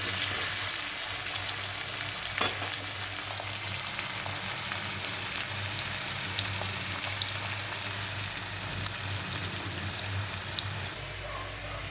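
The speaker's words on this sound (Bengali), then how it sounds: "এটা একটু ভালো করে ভাজা হোক।" Onions frying in oil in a pan for an egg curry, a steady broadband sizzle that holds evenly throughout, close and moderately loud, with no talking.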